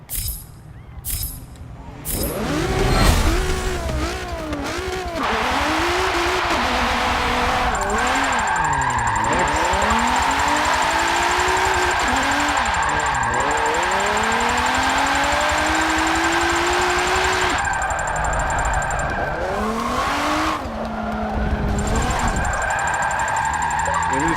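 An AWD drift-build car in Forza 7 starts up, then revs loud and close through repeated rising and falling engine sweeps, with a steady high whine running through and occasional tire squeal.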